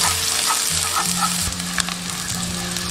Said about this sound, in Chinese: 下入葱姜末炒香